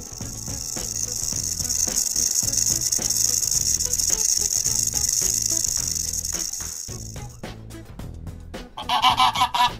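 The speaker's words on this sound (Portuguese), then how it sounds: "O ganso é uma ave aquática, assim como o pato." A goose honks repeatedly in loud, rapid nasal calls with a rattling edge, close by and continuous, ending in a burst of sharper honks.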